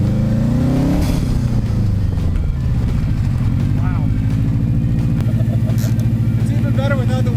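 A loud, close Subaru WRX engine in a lightweight kit car with no windshield rises in pitch, drops for a gear change, then pulls again with a raspy roar; a brief exclamation is heard.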